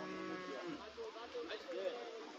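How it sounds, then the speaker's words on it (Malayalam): Bulls and cows tethered at a weekly livestock market in Perumpilavu moo repeatedly, low drawn-out calls overlapping from several animals nearby amid a busy outdoor background. "ആ ഭാഗത്തെല്ലാം കെട്ടിയിരിക്കുന്ന മൂരികളും പശുക്കളും"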